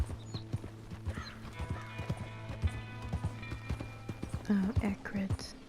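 Horse hooves clip-clop at a steady walking rhythm while riding in the video game Red Dead Redemption 2, with creaking tack and a short whinny near the end, heard close up.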